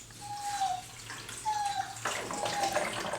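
Aquarium gravel siphon drawing water into a bucket for a betta fish tank, with a steady watery gush and trickle that grows louder and splashier toward the end.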